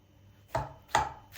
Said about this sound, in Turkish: 2 tane de soyulmuş domates doğruyoruz